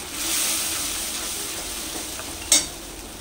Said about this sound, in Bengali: এখন গ্যাসের আঁচটাকে একটু কমিয়ে দেবো, দিয়ে এটাকে কষে নিতে হবে ভালো করে।